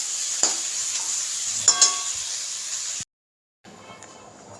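Ghugni, a pea curry, sizzles and hisses as it is stirred in a hot pan, a steady frying hiss with a few spoon scrapes, then a brief silence before the sizzle returns more quietly.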